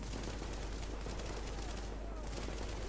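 Heavy machine gun fire in The Division video game, a dense, continuous loud rattle of rapid shots with no pause throughout, blending into a steady wall of noise.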